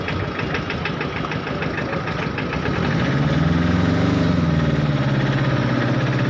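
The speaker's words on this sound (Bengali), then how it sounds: "মোটরসাইকেল" A motorcycle engine idles steadily outdoors near a New Market area, a continuous low chug that grows louder midway with a slight rise and fall in pitch, close by amid street background.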